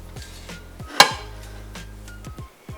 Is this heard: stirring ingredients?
yes